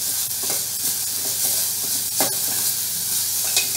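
A spoon stirs Indo-Chinese manchow soup in a pot after salt goes in, giving a few soft scraping strokes over a steady hiss of simmering, close and fairly quiet.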